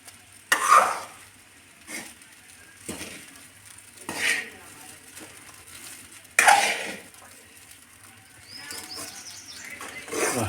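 Egg fried rice is stirred and fried in a pan, with spatula scrapes landing every couple of seconds over a low, steady sizzle; fairly close, quiet between strokes, no talking.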